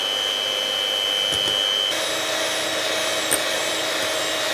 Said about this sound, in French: on va attendre qu'ils moussent bien et ensuite petit à petit on va ajouter le sucre pour pouvoir serrer les blancs